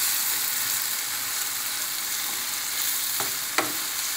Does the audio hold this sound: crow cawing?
no